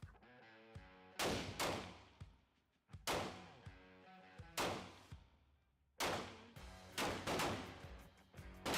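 A 9mm XD pistol with a 4.5-inch barrel fires about ten sharp, loud shots, mostly in quick pairs with short pauses between, each crack followed by a brief echoing decay.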